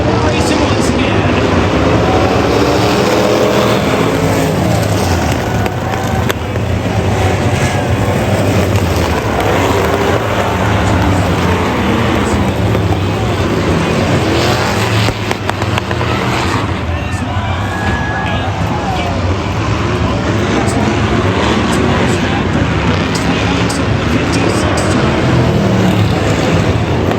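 Race cars and trucks racing at Western Speedway, a continuous loud roar of engines circling the track with crowd murmur beneath and an announcer talking over it.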